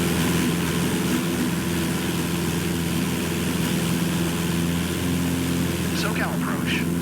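A Cessna 172 Skyhawk propeller engine in Microsoft Flight Simulator 2024 drones loudly and steadily with a strong low harmonic hum. A voice speaks over it toward the end.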